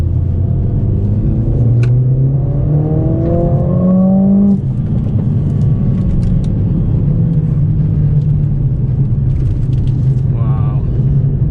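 A 2020 Mercedes-AMG CLA 45 coupe accelerates on the road, its engine note climbing steadily in pitch as it revs, then settling into a continuous rumble and tyre whir heard from inside the cabin, with a voice briefly over it.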